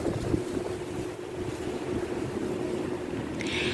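Steady wind rushes and buffets the microphone in a continuous roar, with no talking.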